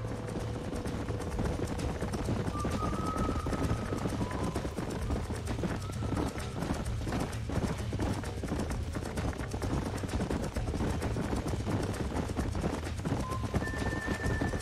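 Horse hooves clip-clop at a trot in the Western video game Red Dead Redemption, a steady rhythmic beat under a continuous ambient bed, with occasional whinnies and speech mixed in.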